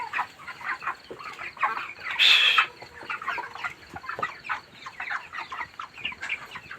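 Broiler chickens on a poultry farm cluck and chirp continuously from nearby, one louder squawk rising out of the flock partway through, with no speech.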